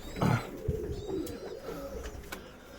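Fancy owl pigeons coo softly at close range in a breeding loft, a low throaty call early on followed by quieter murmurs against faint background noise.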